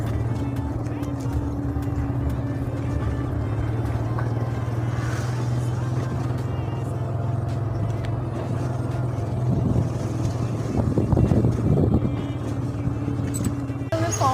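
A motor vehicle being moved out of a room, its engine humming steadily and fairly close, rising a little toward the end, with someone talking over it.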